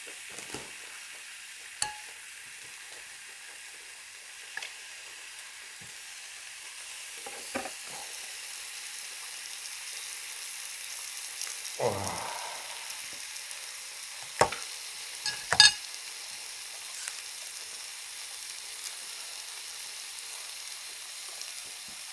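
Strips of bacon grill and sizzle steadily on a Korean-style barbecue grill, with a continuous hiss of frying fat and a few sharp pops and clatters of tongs or utensils, close and fairly quiet with no talking.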